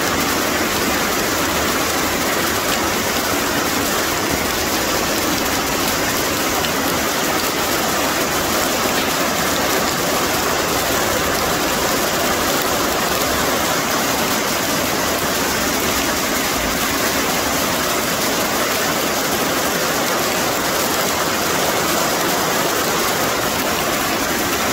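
A waterfall on a hillside, a loud, steady, broadband roar of rushing water that stays constant throughout with no other sounds.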